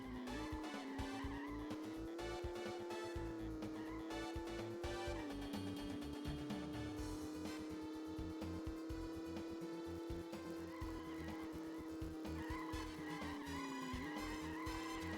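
A sports car in a driving video game revs with a sustained, wavering engine tone as its tires skid and squeal continuously, loud and alone without talk.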